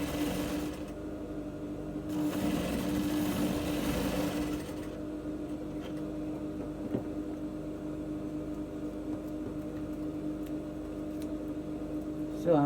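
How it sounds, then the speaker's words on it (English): A sewing machine runs in a short, steady burst as it stitches down a corset seam, fairly quiet and close, then the room falls to a low hum. "Sew it down."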